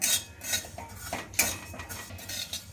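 Cumin seeds dry-roasting in a pan for chakli flour, stirred with a utensil that scrapes and clinks against the metal in repeated close strokes, with no voices.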